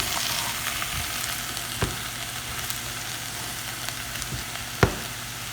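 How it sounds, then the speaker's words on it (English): Steamed spicy badi is lightly mixed in a pan, with a soft continuous sizzle and occasional sharp clicks of the utensil against the pan, close and alone. "So mix it lightly."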